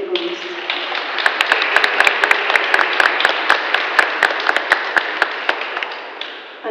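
Audience applause at a gathering at the Polish Museum in Chicago, a dense, steady wash of clapping with sharp individual claps standing out, lasting several seconds before fading.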